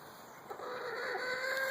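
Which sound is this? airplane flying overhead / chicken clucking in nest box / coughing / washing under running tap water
chicken clucking in nest box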